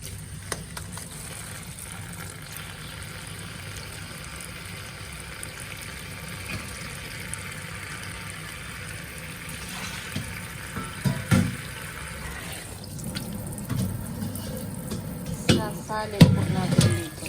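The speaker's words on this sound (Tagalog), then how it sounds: "Sasalin po natin dito sa isang lalagyan para mahugasan mabuti." Sweet potato leaves rinsed under a running kitchen tap, a steady hiss of flowing water that shifts midway into louder splashing and rustling of leaves in a container, with a voice speaking faintly at moments.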